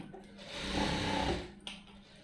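A sewing machine stitches a blouse lining in one steady close burst of fast rattling needle strokes lasting about a second, then a short click as it stops.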